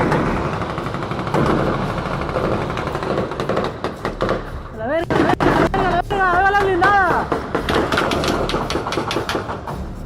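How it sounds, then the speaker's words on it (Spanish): Heavy gunfire echoes through a street battle in a Mexican town during a cartel ambush of army troops, with rapid automatic bursts and loud cracks, while shouting voices cut in partway through. "Resulta aterrador escuchar ese nivel de estruendos y esa cantidad de disparos efectuados en una zona donde habitan cientos de miles de personas"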